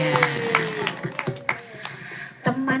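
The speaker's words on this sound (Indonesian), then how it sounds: "Tepuk tangan dulu dong semuanya" Children clap their hands at a Maulid Nabi celebration at a nature school in Aceh, with scattered, uneven claps amid chatter and a voice speaking over them.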